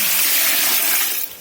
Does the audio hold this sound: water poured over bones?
yes